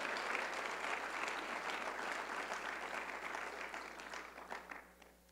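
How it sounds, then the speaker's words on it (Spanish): A church congregation applauds during a Spanish-language service, a sustained round of clapping from many hands that holds steady, then thins out with a few scattered claps over a low electrical hum. "dele fuerte ese aplauso"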